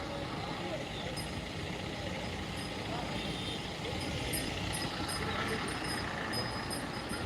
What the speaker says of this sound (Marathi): आता पूर्ण आंतरवालीतून ह्या ट्रॅफिक जाम झालेला आपल्याला पाहायला मिळतोय आहे